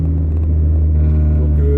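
A Mazda MX-5 sports car engine rumbles steadily and loudly up close, a deep, even drone with a strong low hum and no voices over it.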